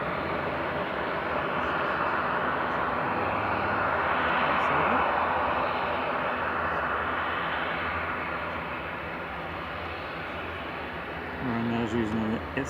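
A Ryanair airliner departs Manchester Airport for Cologne, a broad jet roar that swells toward the middle and then slowly eases, with a voice briefly heard near the end.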